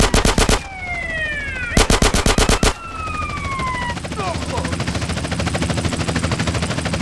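Bursts of rapid automatic gunfire in GTA San Andreas rattle out in two loud volleys, mixed with rising and falling police sirens and a steady engine drone.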